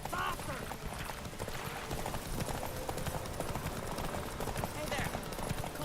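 Steady rhythmic hoofbeats of Geralt's horse Roach galloping in The Witcher 3, a continuous clip-clop under game sounds and talking voices.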